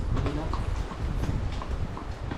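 Horses clip-clop along in a steady, close rhythm of hoofbeats, heard under chatter and background crowd noise at an outdoor gathering in Majayjay.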